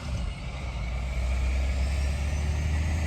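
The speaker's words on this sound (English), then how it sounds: "Little noisy with the road right there, as you can see, big trucks going by" Big trucks pass on a road beside Mile Zero Campground in Dawson Creek, British Columbia, a loud steady low engine rumble and tire roar filling the whole stretch without letup.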